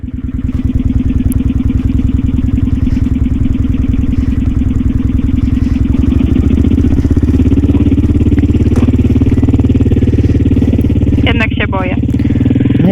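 Motorcycle ridden in first gear by a learner, a loud close-up engine drone that holds steady with slight surges, while a person talks over it near the end.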